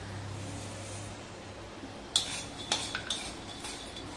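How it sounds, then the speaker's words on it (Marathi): Peanuts being stirred and roasted in a pan for green tomato chutney start as a soft background hiss, then a spoon clinks and scrapes against the pan several times in quick, close strokes. "शेंगदाणे चांगले आपल्याला ढवळे ढवळे भाजून घ्यायचे."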